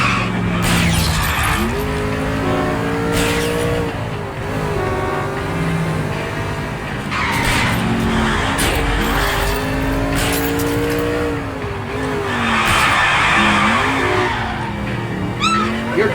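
In the L.A. Noire video game, a car skids on bare rims: a loud, sustained screech and grinding wail with engine roar and a sharp crash or shatter, continuing for several seconds.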